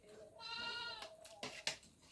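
Goats on a rural Sundarbans homestead bleat nearby after rain, with one long wavering call followed by a couple of shorter bleats, quiet and fairly close.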